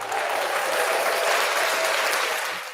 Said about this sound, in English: we're going to do another round of applause